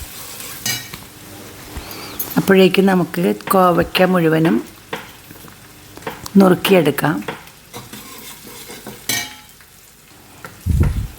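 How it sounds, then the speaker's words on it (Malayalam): Sliced onions sizzle and are stirred in hot coconut oil for an ivy gourd mezhukkupuratty, with a steady close frying crackle and scraping under intermittent talk. "ഒരു ഗോൾഡൻ ബ്രൗൺ കളറാകുന്നത് വരെ ഉള്ളി ഇളക്കണം"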